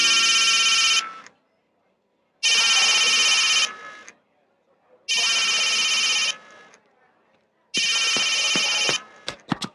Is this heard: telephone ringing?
yes